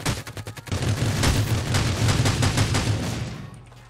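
Rapid gunfire in the battle royale game Rules of Survival, a burst of quick repeated shots growing into sustained automatic fire, then fading out.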